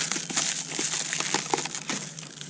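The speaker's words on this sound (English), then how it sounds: "Looks like we can take this out, unwrap it." Crinkly plastic packaging rustles and crackles as a Lyson solar wax melter is unwrapped, a close, continuous crumpling sound with no talking.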